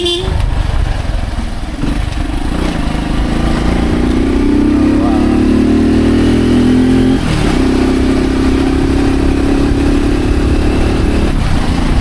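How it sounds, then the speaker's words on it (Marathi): A vehicle engine drones loudly and continuously with rushing wind while driving along a road lined with green trees near Kurdus Dam, the engine pitch rising and shifting steadily as it accelerates. "गाडीचा आवाज आणि आजूबाजूचा निसर्ग आणि हवेचा आवाज"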